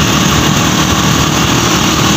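Motorbike engine running steadily at close range, a loud continuous buzzing drone with no breaks and no talking.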